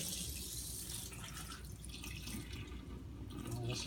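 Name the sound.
water rinsing 9mm brass casings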